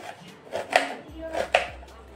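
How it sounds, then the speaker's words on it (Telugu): Mushrooms are chopped into small pieces with a knife on a board, a few sharp, close cuts at an uneven rhythm with a faint voice underneath. "మిగతావన్నీ కూడా ఇలాగ కట్ చేసుకోవాలి."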